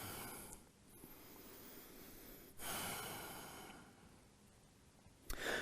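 Quiet breathing during a vinyasa yoga flow, soft airy inhales and exhales close to the microphone with a couple of sharper breath bursts, no voice.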